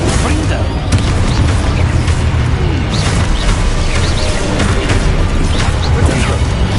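Loud, repeated booming blasts of the Confringo explosion spell in Hogwarts Legacy, bursting in quick succession over a dense, continuous wash of game noise.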